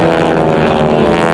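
An aerobatic aircraft at the Spirit of St. Louis airshow drones loudly and steadily with a propeller hum as it climbs straight up.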